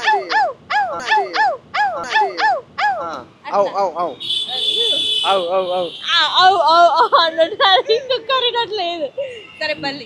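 A person mimics a dog with a rapid string of loud barking yips and whimpers, close to the microphone, followed by mixed talk and further vocal imitation.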